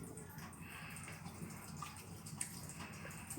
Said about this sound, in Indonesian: Nyalakan keran, basahi tangan pakai sabun.